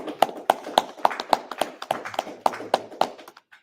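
A Shabbat congregation claps after a service, with sharp, evenly spaced claps beating out a steady rhythm over a softer patter of scattered hands. The clapping tapers off near the end.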